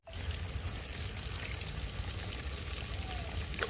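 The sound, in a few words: water being poured into cooking pot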